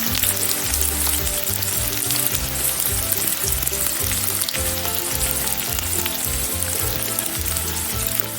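Garlic fries in a hot pan with a steady, loud sizzle that runs unbroken throughout, a rhythmic low scraping underneath as it is stirred.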